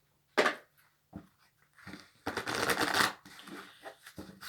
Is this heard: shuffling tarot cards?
yes